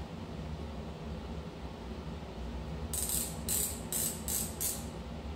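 Plastic threaded part of a POSIKO POSBP02 bike phone holder being unscrewed by hand, giving a short run of five close ratcheting clicks over a steady background hiss, with no talking.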